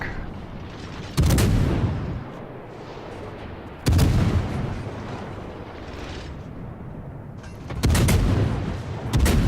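Naval guns of warships fire in World of Warships, three heavy broadside booms about every four seconds, each a loud, broad blast that rolls into a long rumbling tail over steady ship and ocean ambience.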